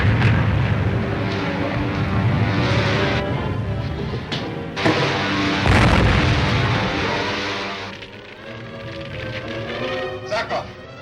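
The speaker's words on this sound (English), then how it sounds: "There was an explosion" A loud, sustained explosion roar with heavy rumbling booms continues for several seconds, then fades toward the end, while voices speak over it.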